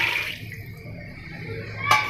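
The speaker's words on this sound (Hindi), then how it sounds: "ऐड करना है 1 मग पानी" Water is poured into a cooking pot of mutton, spinach and potatoes, a soft, faint splashing and trickling that carries on for a couple of seconds, with a brighter splash near the end.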